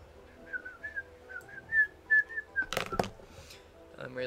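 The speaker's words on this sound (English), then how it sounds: "I'm really shit at whistling." A person whistles a short, wobbly tune of several thin notes, fairly close, followed by a sharp clatter and brief speech.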